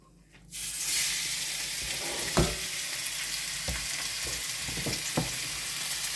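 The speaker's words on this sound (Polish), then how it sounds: "Ląduje na żeliwnej patelni i będziemy to sobie smażyć." Minced lamb meat lands in a hot cast iron pan and bursts into loud, steady sizzling, with a few sharp clinks and scrapes of stirring.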